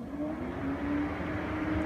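Car radiator cooling fan, switched on through a TopDon ArtiDiag Pro diagnostic scanner with the vehicle off, gives a steady whooshing drone with a faint hum, continuous and close, with no talking.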